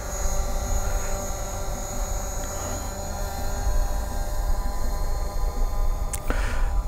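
A DJI Mavic drone flies far off, its steady distant buzz blending into continuous outdoor background noise, with a brief sharp tone near the end.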